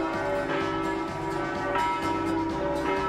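Church bells in Venice ring with sustained, overlapping tones, a continuous resonant peal heard at moderate distance.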